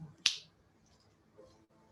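A single sharp, close finger snap cracks out near the start of a quiet room, then there is near silence.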